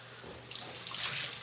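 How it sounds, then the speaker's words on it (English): Tap water runs steadily into a bathroom sink while exfoliant is rinsed off a face during a nighttime skincare routine, a soft close splashing that swells a little halfway through, with no talking. "Now I'm going to rinse off the exfoliant."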